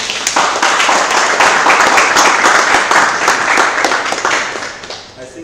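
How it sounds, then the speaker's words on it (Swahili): Dense, loud applause from an audience at the end of a masterclass, many hands clapping together steadily for several seconds and then tapering off. "Piga makofi mengi sana."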